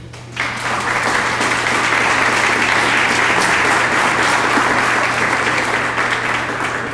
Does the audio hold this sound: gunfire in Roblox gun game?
no